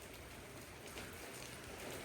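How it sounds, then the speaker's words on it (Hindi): Steady rain falls during Hurricane Milton, a continuous faint hiss of rain on surfaces with no pauses and no voices. "बस बारिश चल रही।"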